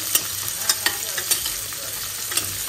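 Onions fry in oil in a pan with potatoes, giving a soft, steady sizzle broken by several sharp scraping clicks from stirring, close and alone without speech.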